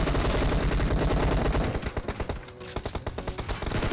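Rapid bursts of Uzi submachine gun fire from the mobile battle royale game PUBG Mobile, loud and dense, with a sustained volley giving way to quicker separated shots near the end.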